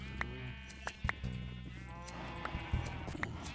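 Sheep bleating in Minecraft, several short separate bleats over a steady game background, fairly close and moderately loud, with no talking.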